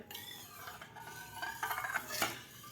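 A spoon scrapes and clinks softly in a pot of boiling moringa drumstick soup, a quiet, uneven run of stirring taps and scrapes with a faint bubbling underneath.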